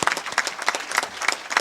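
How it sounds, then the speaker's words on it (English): A small crowd at a coronation ceremony gives a short round of applause, individual claps standing out in a loose, uneven patter. "So a round of applause to all of you."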